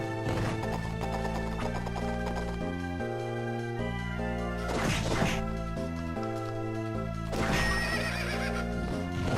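A horse neighs twice in the video game Castlevania: Order of Ecclesia. Each whinny is a short, bright burst heard over steady in-game music.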